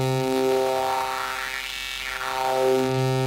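A saw wave is run through a Pioneer DJM-900NX2 mixer effect, making a buzzy, crunchy harmonic drone that dips and swells as a filter-like sweep passes over it. The sound plays alone, with no talk.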